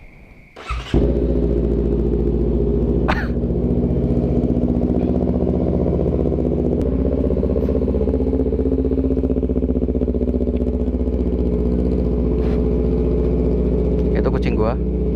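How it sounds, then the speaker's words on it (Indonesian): Honda CBR250RR motorcycle engine starting and settling into a steady warm-up idle, a loud close continuous rumble with a few light clatters; speech counts as likely even though no words are picked up. "Panasin dulu si motornya guys."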